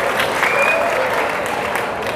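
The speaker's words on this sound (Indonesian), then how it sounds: "Tepuk tangan buat TKJ." Loud audience applause and cheering for a school department, dense continuous clapping from a large crowd with a brief whistle near the start.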